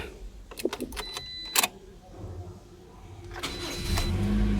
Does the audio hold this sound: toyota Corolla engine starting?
yes